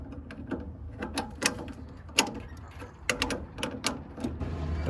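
A classic VW engine fan belt pulley being tightened, with a series of close, quiet ratcheting clicks and metallic ticks in an uneven rhythm.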